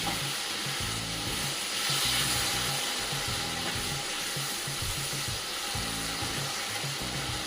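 Paneer masala gravy simmers in a pan over a low gas flame, giving a steady, close frying sizzle with soft bubbling throughout.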